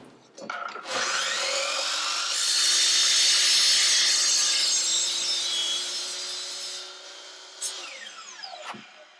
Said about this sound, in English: I just can't get myself to cut this aluminum with the new blade